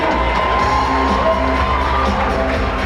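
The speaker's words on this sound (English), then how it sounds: "How about another round of applause for Mr. Posty?" Dense, loud audience cheering and clapping at a school pageant, with whoops and shouts blending into a continuous roar throughout.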